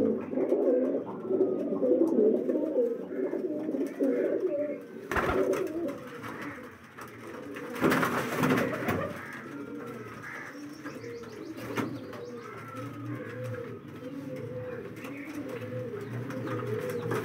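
Low flyer breeder pigeons in a breeding loft coo steadily and close by for the whole stretch, overlapping rumbling calls with a brief burst of flapping or rustling partway through.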